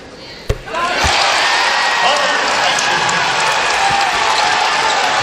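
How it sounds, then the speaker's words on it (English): A college basketball arena crowd at a Miami vs. Clemson game erupts after a sharp thud, swelling into sustained loud cheering and applause that holds steady to the end, with a commentator's voice faintly underneath. "So the crowd coming to life here."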